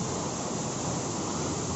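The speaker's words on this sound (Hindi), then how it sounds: "मोटा ही भयंकर भयंकर झरना" A large waterfall roars with a steady, dense rush of falling water, loud and continuous throughout without any break or voices.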